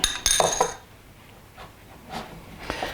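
Almond paste being mixed with beaten egg in a bowl, giving a few close scraping, clinking strokes near the start, then quieter intermittent scrapes and taps.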